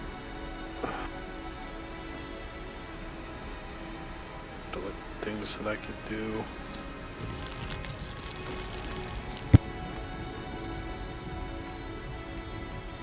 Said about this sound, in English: And the rain gets louder because I have that power.